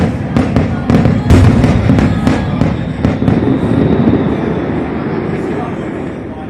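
Fireworks set off in Taiwan: a rapid run of sharp bangs and crackles in the first few seconds, fading into a loud, continuous rumbling wash of distant explosions.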